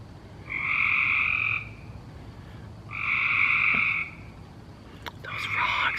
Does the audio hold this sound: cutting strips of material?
no